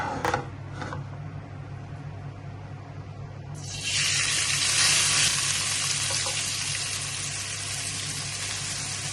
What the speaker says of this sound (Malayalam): നെയ്യ് ചൂടാകുമ്പോഴത്തേക്കും നമ്മൾ അരിഞ്ഞു വെച്ചിരിക്കുന്ന സവാള അതിലോട്ട് ഇട്ട് കൊടുക്കാം.